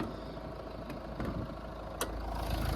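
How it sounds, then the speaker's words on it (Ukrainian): A Citroen C-Crosser 2.2 diesel engine idles steadily at close range, a low even rumble with a few faint clicks and taps over it. "зараз послухайте, як працює двигунчик дизельний, як він має працювати"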